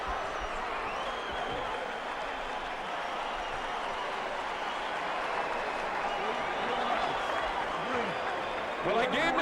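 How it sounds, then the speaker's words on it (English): A boxing arena crowd during the Mike Tyson vs Kevin McBride fight in 2005 roars and applauds steadily throughout, a broad continuous wash of cheering at moderate distance with a commentator talking over it. "The crowd loves it."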